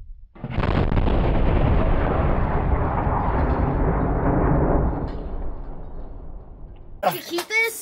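A .50 caliber machine gun fires a sustained, loud burst of about 100 rounds as one dense roar, dying into a trailing echo, followed by nearby voices talking at the end.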